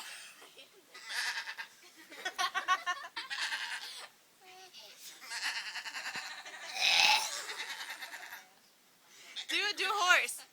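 A young man imitates a sheep with a series of quavering bleats, some stretched out and some choppy, in a quiet room.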